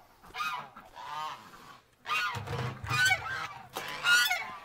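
Geese honk in a pen in several loud, close bursts separated by short pauses, with overlapping harsh calls building toward the end.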